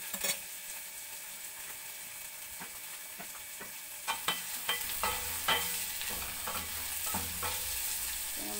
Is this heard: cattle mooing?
no